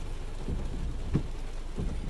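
Steady rain hisses softly, with a few low rumbles and dull thumps breaking through the wash of falling water.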